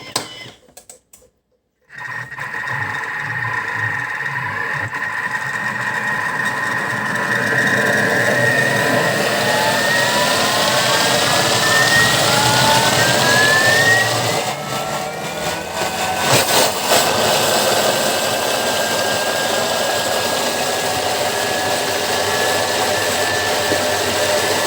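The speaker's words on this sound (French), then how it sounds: "là on va venir mixer pendant 30 secondes," A Thermomix TM6 blends cauliflower at speed 8 with the lid and measuring cup in place, giving a steady, loud motorized whir that starts abruptly after a brief silence and holds for over twenty seconds, its pitch rising and shifting as the mix smooths.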